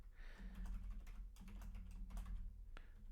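Someone types a password on a computer keyboard, a quick run of close, crisp key clicks in uneven bursts with a few short pauses.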